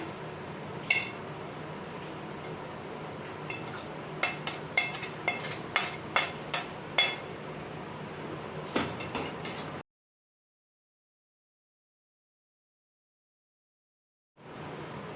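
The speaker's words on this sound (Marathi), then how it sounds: "आपण आता पीठ एका ताटात काढून घेऊया" Roasted wheat flour is scraped from a pan onto a plate, with a run of light metallic clinks and scrapes against a steady background, then the sound cuts to silence.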